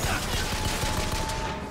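Rapid automatic turret gunfire from the video game Bioshock Infinite, a dense continuous rattle of shots filling the whole short stretch at moderate loudness.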